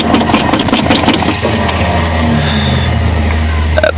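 Cold start of a 302 engine in a Ford Ranger with a worn starter at minus 12 degrees: the starter cranks with rapid ticking, the engine catches and settles into a steady, loud low rumbling idle.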